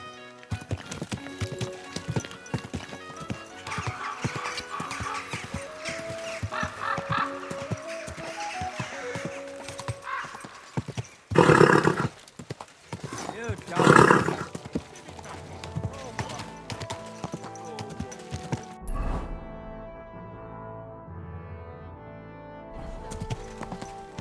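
Hooves clip-clop steadily as a horse walks in Kingdom Come: Deliverance II, with two loud neighing bursts midway over a soft musical score and a spoken voice.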